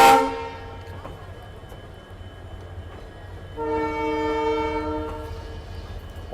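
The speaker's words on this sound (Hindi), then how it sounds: "और ये जो डीजल लोकोमोटिव का साउंड आता है ना भाई साहब" The Jodhpur Express, hauled by a diesel locomotive, rumbles past at a railway crossing, with a loud horn blast at the start and a second sustained horn partway through over a steady low rumble.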